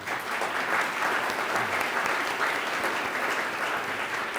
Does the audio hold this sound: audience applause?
yes